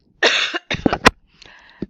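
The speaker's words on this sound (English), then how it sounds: "My apologies for coughing." A single person coughs and clears their throat several times in short bursts, close and fairly loud, during a quiet pause in an educational tutorial recording.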